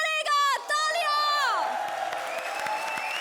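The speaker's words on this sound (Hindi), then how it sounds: "तालियां।" Studio audience applause on a Hindi TV comedy show, Comedy Circus Ke Ajoobe, rising as a broad wash of clapping and cheering after a brief voiced tone, then holding steady and fairly loud.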